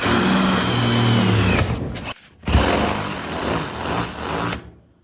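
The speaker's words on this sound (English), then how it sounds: "All right, so we're gonna drill a hole through here." A power drill whines loudly while drilling a hole in a DIY powder coating oven, briefly stops, then runs again at high speed before winding down to silence.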